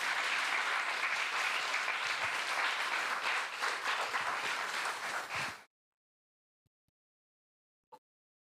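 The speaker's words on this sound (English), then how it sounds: "Let's give them all a big round of applause" A temple audience at ISKCON Dallas applauds newcomers with dense, loud clapping for about five and a half seconds, then it cuts off abruptly into near silence broken by a couple of faint ticks and one short knock.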